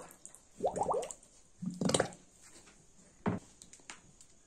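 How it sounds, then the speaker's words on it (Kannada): Near and quiet, a bottle is slowly pushed down into a bucket of water, making a few separate gurgling, bubbling bursts with brief quiet gaps between them. "ಈಗ ಬಾಟಲಿಯನ್ನ ನಿಧಾನವಾಗಿ ನೀರು ತುಂಬಿದ ಬಕೆಟಿನ ಒಳಗಡೆ ನಿಧಾನವಾಗಿ ಮುಳುಗಿಸಿ."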